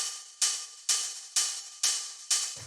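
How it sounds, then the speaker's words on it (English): Five evenly spaced, low-pitched hi-hat hits with short decaying tails, playing alone in a steady rhythm. "then after that we have the hi-hat"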